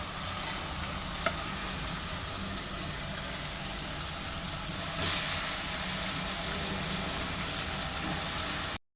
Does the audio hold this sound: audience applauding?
no